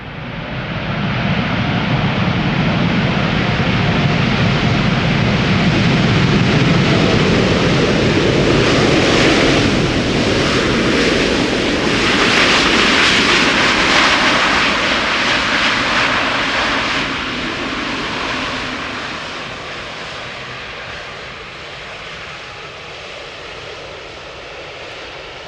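A three-year-old Boeing 787 Dreamliner comes in to land at Amsterdam Schiphol in high humidity, its loud, broad engine roar sustained for many seconds before gradually easing as it passes.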